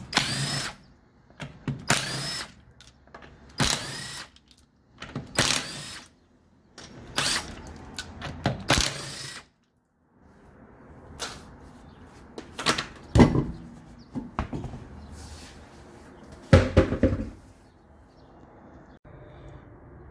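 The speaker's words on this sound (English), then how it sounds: "now it's time to take the back wheel off" Rear wheel coming off a 2015 Toyota RAV4: repeated sharp bursts of a power wrench spinning lug nuts, separated by pauses, clinks and light handling noises, close and fairly loud, with no speech.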